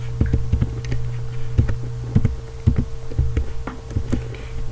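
Keys clatter on a computer keyboard in short, uneven bursts of crisp clicks over a faint steady hum, typing at a moderate pace with brief pauses between words.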